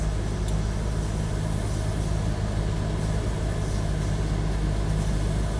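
A 2022 Acura NSX sports car engine runs steadily in sport mode, a continuous loud low rumble holding an even level throughout with no talking over it.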